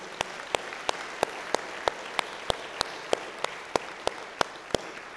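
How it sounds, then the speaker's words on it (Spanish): A church congregation claps in unison during a Spanish-language sermon, with sharp, evenly spaced claps repeating about every third of a second, loud and close, with no talk. "Dale un fuerte aplauso al Señor."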